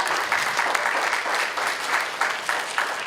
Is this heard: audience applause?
yes